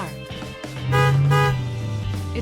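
A car horn honks loudly, a short toot followed by a longer sustained blast, heard up close with no talking.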